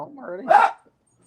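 Dogs on a goat farm bark in a quick, close burst, one loud yelping bark cutting through a voice, then quiet.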